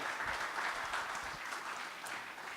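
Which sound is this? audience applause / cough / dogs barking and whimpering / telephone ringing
audience applause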